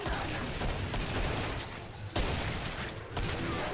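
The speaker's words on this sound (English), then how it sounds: "just look at the serious damage these shotguns do" Shotgun fire in the Killing Floor video game, dense crackling gunfire with sharp loud blasts standing out near the middle and end of a continuous, busy battle din.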